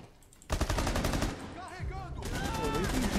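Loud shotgun fire bursts in Rainbow Six Siege, heavy blasts and rapid shots layered with game effects, one after another over a busy mix.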